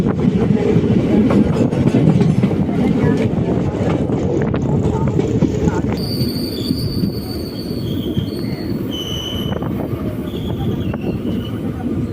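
Palakkad-Tiruchendur Express passenger train running, with a loud, close, continuous rumble of wheels on rails and high wheel squeal joining partway through, heard from aboard.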